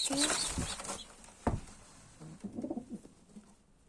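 Soft pigeon coos, from domestic pigeons including Strassers, come in a few short low bursts in the second half of the clip, after a brief sharp knock and some faint background noise.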